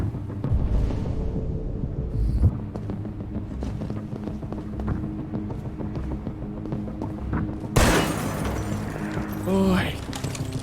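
Gunfire rings out in the game Detroit: Become Human: a sudden loud shot cracks out late, amid busy clattering game sounds and mechanical noise, with someone speaking over much of it.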